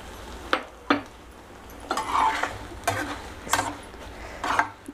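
Grated snake gourd frying and being stirred in a pan, with a soft sizzle underneath and several distinct clacks of a spoon or spatula scraping against the metal at uneven intervals.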